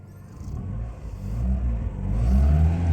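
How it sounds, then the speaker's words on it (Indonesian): A car engine held at raised revs around 2000 to 3000 RPM, a steady low rumble that climbs slightly toward the end, close and continuous. "coba kita naikin RPM 2000 sampai 3000 ya"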